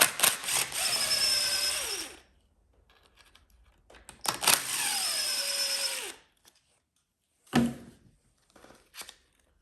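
A power driver spins out two bolts on a Redmax 8500 backpack blower, two long whirring bursts with rising and falling pitch, each about two seconds, followed by short clicks and a brief rattle, close and alone.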